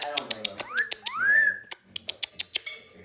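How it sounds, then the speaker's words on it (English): An Amazon parrot whistles close up, giving rising slurred whistles between rapid clicking beak or tongue sounds, with a person speaking nearby. "Who are you whistling at?"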